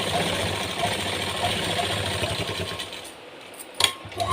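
A sewing machine runs while stitching a strip onto a blouse, producing a faint, steady motor hum with a brief clatter near the end.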